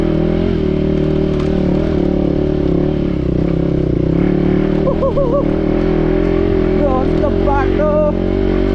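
A motorcycle climbs a steep, rough off-road trail toward Sandakphu, its engine droning loud and steady throughout, close to the mic, with brief clatters over the bumpy ground.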